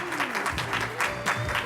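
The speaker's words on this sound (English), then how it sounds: "Please give her a warm round of applause." Brief audience clapping at a town hall for the moderator, moderate and fairly sparse, with a voice speaking over it.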